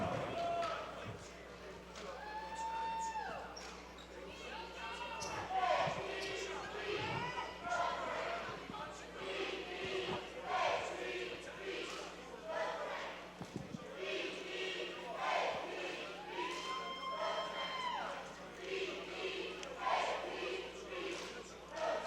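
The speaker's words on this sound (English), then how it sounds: "let's watch and listen to the Cardinal cheerleaders" At a Cardinals basketball game during a full timeout, a cheerleading squad chants and yells in a rhythmic, repeated pattern. The chanting sits over a continuous, fairly distant crowd murmur in a gym and lasts the whole stretch.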